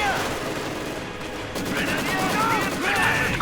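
Machine gun bursts crackle through a Company of Heroes 2 battle, with dense overlapping gunfire and other combat noise running steadily throughout, while faint voices sit in the mix.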